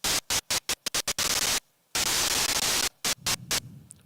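Synthesizer patch generating static-like white noise, loud broadband hiss chopped into rapid rhythmic bursts and gaps, then sustained stretches with a brief silence before more choppy pulses.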